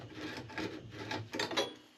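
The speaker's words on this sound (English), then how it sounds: "Now we're just going to ream it." A cut copper pipe is reamed by hand before a zone valve install, giving several short scraping rasps in quick succession, close and fairly quiet.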